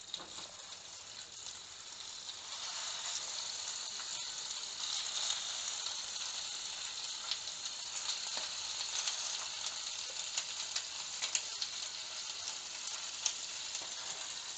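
Chicken wings pan-frying slowly over low heat in a little oil, a soft, steady, even sizzle that continues alone at close range with no talk.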